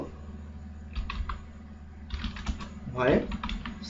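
Typing C++ code on a computer keyboard, steady close key clicks in bursts with a louder flurry near the end over a constant background hum.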